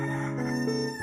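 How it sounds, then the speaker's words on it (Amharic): A rooster crows once, a drawn-out, clear and fairly close call that holds for about a second and then breaks off. "ሳላውቅ የዶሮ ድምፅ ከጆሮ ይገባ"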